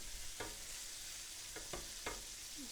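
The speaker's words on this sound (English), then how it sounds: "the fat is starting to render" Fat renders from pieces of pancetta in a frying pan, giving a faint, steady sizzle with three or four light scraping stirs.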